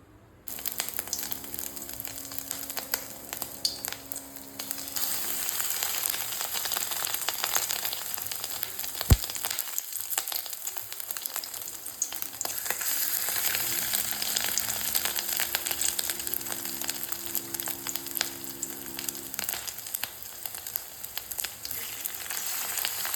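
Fish roe dropped into hot oil fries with a continuous close sizzle dotted with small crackles and pops, briefly easing midway before the bubbling rises again, with no talking.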